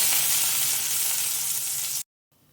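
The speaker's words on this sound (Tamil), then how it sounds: "பூண்டை ஆட் பண்ணி நல்லா வதக்கிக்கிறேன்" Chopped garlic frying in hot oil in a pan, a loud, continuous, steady sizzle for two seconds before cutting off abruptly into near silence.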